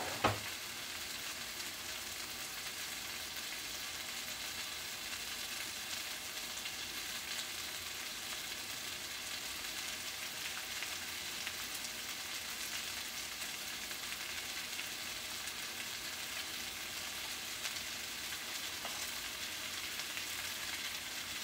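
Steak and shrimp stir fry with chili garlic sauce sizzling steadily in a hot pan, an even, continuous crackling hiss close by, with no voices.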